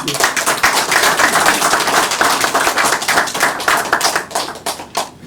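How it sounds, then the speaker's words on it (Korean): An audience at a research institute opening ceremony claps, a brisk, fairly loud patter of many hands with a slightly uneven rhythm that fades a little toward the end. "그럼 박수 한번 치주세요"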